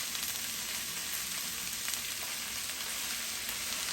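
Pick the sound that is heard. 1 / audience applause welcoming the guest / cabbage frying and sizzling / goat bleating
cabbage frying and sizzling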